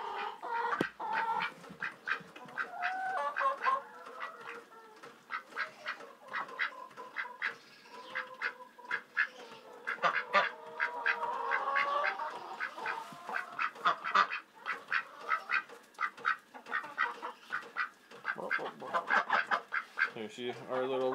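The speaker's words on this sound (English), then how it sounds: "let's go see how the ducks are doing" Ducks quack busily and close by on a warm day, with a steady run of overlapping calls and a few honk-like cries over light background noise.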